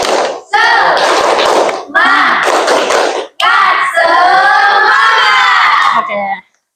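A group of people does a rhythmic clap-and-chant ice-breaker in a classroom, with loud bursts of unison clapping and shouting in three energetic phrases separated by brief pauses, close and forceful.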